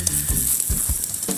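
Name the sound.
vegetables thrown into a pan over hot briquettes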